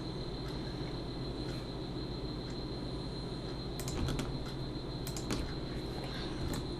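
Computer keyboard keys are pressed in short bursts of clicks, with scattered taps and a quick cluster near the end over a steady electronic hum, no talk.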